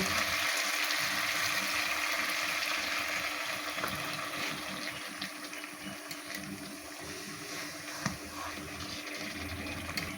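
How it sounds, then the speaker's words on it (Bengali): Water pours into a pan of spicy catfish curry with fried magur fish, a steady gushing, splashing flow that stays loud and close for the whole stretch, with no voices. "মাছগুলো ভালো করে কষানোর জন্য আমি আবারও পানি দিব"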